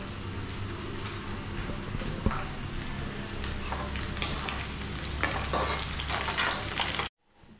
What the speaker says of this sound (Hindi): इसको हिला लेते हैं हल्का हल्का